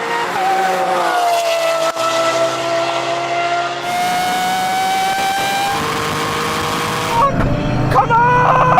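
A 600bhp GR Yaris and a Lamborghini Aventador SV run a drag race. Loud engines rev and whine as they climb through the gears, with abrupt shifts and a brief tire squeal. Excited voices can be heard faintly in the background.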